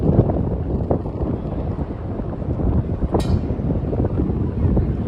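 Strong night wind in New York City among tall towers, buffeting the microphone with a steady, loud, low roar and gusty swells throughout, with no voices.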